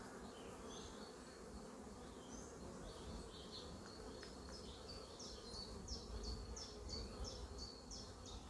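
Honeybees buzz steadily around a row of about twenty hives in an apiary, a dense continuous drone with higher individual wingbeats darting past close to the ear, no voices.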